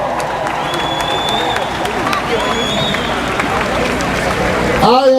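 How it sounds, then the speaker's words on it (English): A large outdoor rally crowd in Atlanta claps and cheers in a loud, continuous wash of applause and voices, with whistles and shouts rising above it and a louder burst near the end. "yourselves a round of applause for being here."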